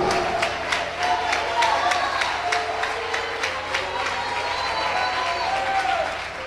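A church congregation breaks into sustained applause during a Spanish-language sermon, dense clapping filling the space steadily for several seconds with some voices mixed in.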